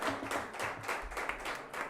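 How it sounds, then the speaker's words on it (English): Crowd applause at a cricket player auction right after a sale, a steady patter of clapping hands at moderate volume lasting throughout, with no talk over it. "A big round of applause."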